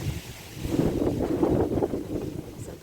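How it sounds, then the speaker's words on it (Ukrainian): Gusty wind buffets the microphone in a continuous low rumble, rising and falling over a few seconds. "От вітер дурний буде жах."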